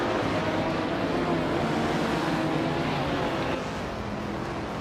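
Vintage streetcars race around a video game track with tight corners and forested sections, their engines droning in a steady, dense roar that holds without a break, easing slightly near the end.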